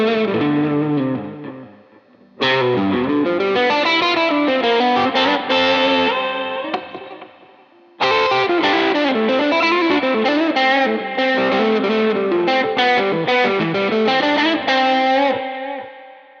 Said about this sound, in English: Paired with the middle pickup on the Strat, this creates a really smooth vocal lead tone.